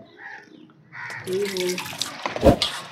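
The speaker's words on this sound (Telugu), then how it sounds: "చూడండి, ఇప్పుడు వాటర్ వేస్తాను ఎలా ఉందో." Water poured over a bronze (kanchu) vessel coated with cleaning paste, a splashing gush that swells midway and peaks briefly near the end, with a voice talking over it.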